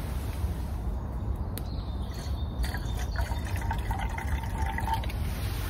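At a tarp camp in the woods, a little water is poured into a lid, a faint, soft trickle and splash against quiet outdoor background noise, with a few light chirps nearby.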